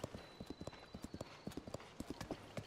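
A horse's hooves clip-clop in a steady trotting rhythm in The Legend of Zelda: Tears of the Kingdom, crisp repeated beats close by and fairly quiet.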